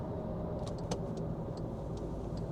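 Interior of a 2012 VW Jetta 2.5 driving onto a highway exit ramp and through a turn: a steady low engine drone and road rumble, with a few faint high clicks or squeaks and no talk.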